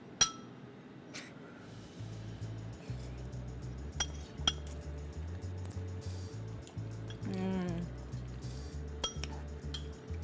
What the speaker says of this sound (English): So cheers, Rima.